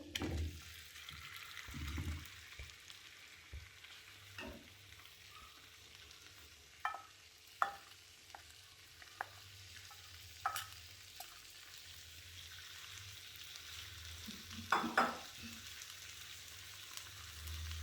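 Black pepper and marinated chicken frying in a pan, a steady low sizzle running throughout with scattered sharp clinks and spatters, louder bursts near the middle and end, no voices.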